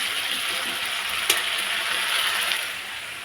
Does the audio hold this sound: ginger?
yes